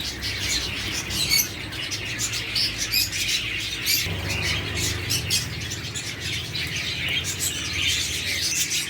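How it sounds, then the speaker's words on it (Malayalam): Many pure white birds chirping and squawking together inside a bird shop, a dense, continuous chorus of bright calls with occasional wing flutters, fairly close and busy throughout. "വൈറ്റ് പ്യൂർ വൈറ്റ് ആയിട്ടുള്ള ഒരു കിളികളാണിത്"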